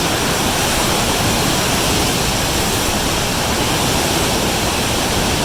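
Niagara Falls roars continuously, a dense, loud wall of rushing water with no pauses and no voices, heard from the Canadian side.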